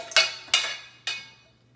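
Stainless and nonstick cookware clanks and clinks three times while being unpacked, sharp metallic strikes each ringing out and fading in a quiet room.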